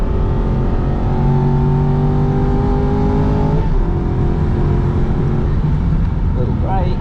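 Aston Martin V8 Vantage engine on an onboard lap of the Nürburgring, holding steady revs then dropping sharply on a paddle-shift upshift before pulling again, loud and close throughout.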